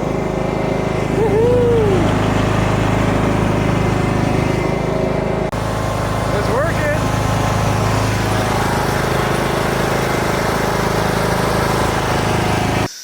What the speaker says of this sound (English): I can just use the riding lawnmower to move around the yard.